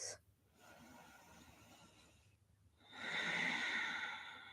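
Slow, audible breaths in yoga child's pose during a vinyasa flow: a soft exhale, a pause, then a louder, longer breath with a breathy hiss, close and alone.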